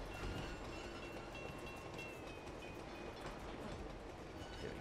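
A moving train in the Uncharted 2 video game rumbles steadily with a dense, continuous clatter and faint high squeals, quiet and unbroken with no voices over it.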